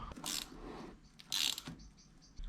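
A chain tool is screwed onto the chain of a Honda NC750X motorcycle, giving two short bursts of faint metallic ratcheting and clicking separated by quiet pauses.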